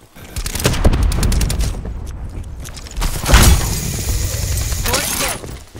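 Rocket launcher hits and explosions in Call of Duty Black Ops 4 multiplayer deathmatch, a rapid burst of gunfire followed by loud blasts and shattering debris, with a player talking over the game.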